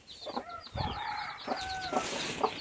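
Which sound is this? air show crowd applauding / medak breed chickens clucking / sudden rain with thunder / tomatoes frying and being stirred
medak breed chickens clucking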